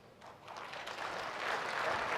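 Applause from a debate audience at FreedomFest 2015 rises and swells into steady clapping that fills the room, alone with no talk.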